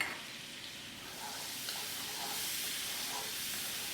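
Garlic cooking in a pan of melted butter gives off a soft, steady sizzle and hiss, faint and even throughout with no talk.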